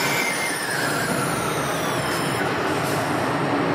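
A hydrogen fuel pump at a filling station runs a pressure test while fuelling a fuel-cell car, giving a steady, loud hiss and whoosh of compressed gas with a faint high whine, no talking.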